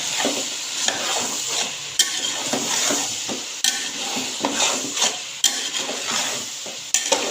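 Aloo gobhi matar curry of potato, cauliflower and peas frying in a pan, a loud continuous sizzle broken by regular scraping stirs every second or so, no voices.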